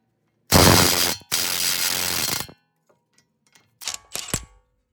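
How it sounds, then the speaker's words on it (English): Ratchet with a 30mm socket loosening the axle nut on a 2016-2022 Toyota Prius during a front wheel bearing job, two loud close bursts of rapid clicking, then quiet ticks and a few short final ratchet strokes. "I unstake the axle nut with a punch and remove it using the 30mm socket."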